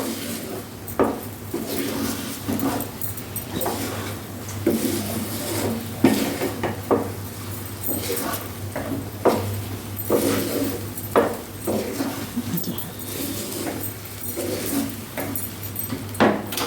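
A spoon scrapes and clinks against a pan as halved cashews are stirred into thick mango halua. The taps and scrapes come close and at an irregular rhythm over a low steady hum, with no talking.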